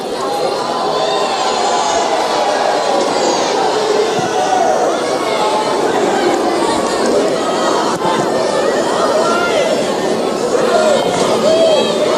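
Husky fans filling the stands at a college soccer match between UCLA and Washington, a dense, steady roar of crowd chatter and scattered cheers, with a commentator talking over it.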